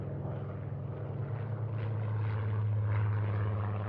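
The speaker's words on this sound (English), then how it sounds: "Aircraft erupted from the Midway runway" A WWII propeller aircraft takes off from the Midway runway, its engine droning in a steady, loud, slightly rising roar with no voices over it.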